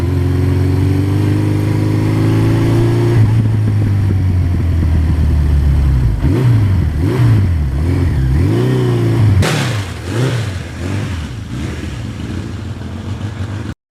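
A 1982 Suzuki GS1100E motorcycle ridden on the road, its engine loud and close with a steady drone, then rising and falling revs through gear changes, continuous throughout with wind noise and no talking.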